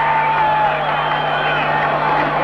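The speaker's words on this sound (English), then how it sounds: "The crowd back in the ballgame." Football stadium crowd at a 1986 L.A. Raiders home game against the Colts, a steady roar of cheering that holds loud and unbroken throughout, with a sustained hum running underneath.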